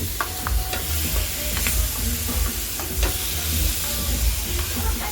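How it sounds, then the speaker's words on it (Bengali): Flat beans are stir-fried in a spice paste, giving a dense, crackling sizzle close by with irregular scraping and knocking strokes of a spoon against the pan. "সিমটা দিয়ে ভালো করে মশলাটা কষিয়ে নেব।"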